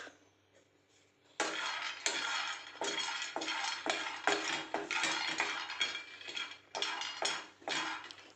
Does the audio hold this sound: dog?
no